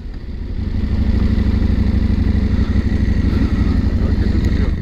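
A KTM 890 SMT motorcycle engine is close and loud, its throaty twin-cylinder drone swelling within the first second and then holding strong and steady as the bike accelerates on the road.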